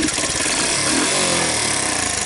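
A Chinese ATV engine runs steadily after a trashed wire harness was replaced, giving a continuous close, loud idle-like drone with a buzzy rattle and no voices.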